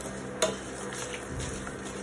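Vaghar tempering sizzles steadily in a pan while making Mysore mamra pulao from puffed rice, with a brief metallic clink from stirring near the start.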